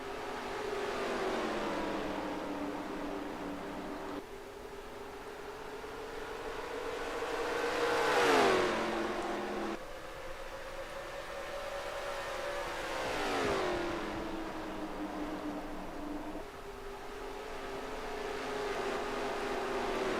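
Stock cars race at Atlanta in NASCAR Racing 2003 as a steady engine drone fills the track. Two louder cars roar past close by with rising and falling pitch, then fade back into the pack.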